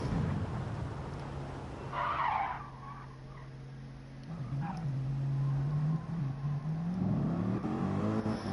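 Tires squealing as a car skids in Gran Turismo 7, followed by a steady engine drone as it drives on, loud and continuous.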